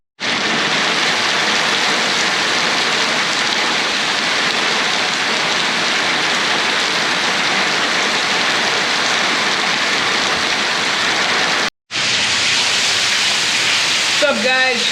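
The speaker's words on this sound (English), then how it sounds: "this is what happens when it rains real heavy over my screen room" Heavy Florida rain pounding down on a screen room, a loud, dense, continuous roar of falling water that drops out briefly and then resumes.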